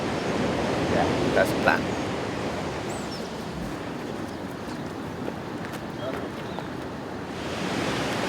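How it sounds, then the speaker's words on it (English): Ocean waves crash and surge continuously against the Irish coast, a dense roar mixed with wind buffeting the microphone, while a person speaks briefly over it. "That was a pretty crazy wave."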